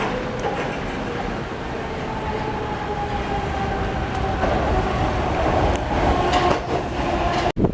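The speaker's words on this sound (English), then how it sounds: "Here comes the train, well, the other train." A train rumbles past with a steady roar and faint rhythmic clatter of wheels, growing a bit louder toward the end before an abrupt cut.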